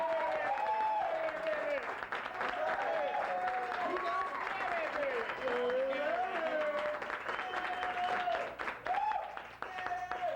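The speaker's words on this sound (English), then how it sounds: "Let's everybody put your hands together with a wonderful, warm round of applause for Mr. Larry Levine." A comedy show audience applauds a comedian being introduced, a continuous wash of clapping throughout, with a voice talking loudly over it nearly the whole time.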